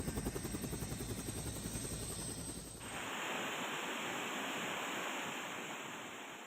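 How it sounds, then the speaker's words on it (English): Helicopter airlifting critically ill patients from a flooded hospital in Hat Yai, Thailand: a low pulsing rotor chop for about three seconds, then a steady broadband rush like wind or surf. "Authorities in Thailand are using helicopters to evacuate critically ill patients"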